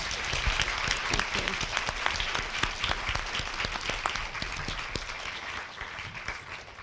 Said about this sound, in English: Please give your panelists one more round of applause.